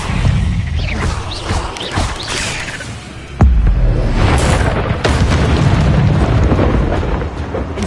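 Incendio fire spell cast repeatedly in Hogwarts Legacy, a loud game effect with a sharp booming burst around the middle, followed by sustained roaring, crackling blasts and another hit, dense and continuous with no talk.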